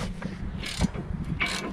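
A wrench loosening the 15 mm rear brake caliper bracket bolts on a Ford Mustang, heard as a few short metallic ratcheting and creaking bursts close by.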